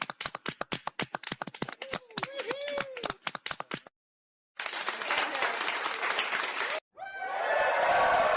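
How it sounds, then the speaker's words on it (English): A clapping and applause sound effect from an audio stream sound mixer plays rapid sharp hand claps that swell into dense crowd applause, loud, with a brief break and a voice briefly under it. "Clapping."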